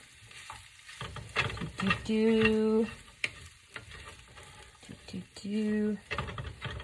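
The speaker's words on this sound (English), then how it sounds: "there you stir that up nice. Get it all stirred up." Chicken fried rice sizzles in a pan as it is stirred, with repeated scraping strokes and two brief tonal squeaks over a steady frying hiss, with faint talk in places.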